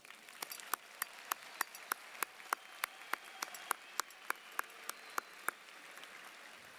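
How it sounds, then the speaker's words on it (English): Applause at a high school graduation ceremony, a dense crowd of clapping with distinct sharp claps standing out in a steady rhythm, moderately loud, with no one talking. "Let's give them all a round of applause."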